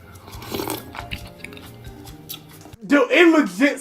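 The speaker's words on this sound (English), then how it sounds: "Dude, it legit sounds like he's chewing chips." Crunchy chewing like chips is heard faintly among background noise, then a voice talks loudly over the end.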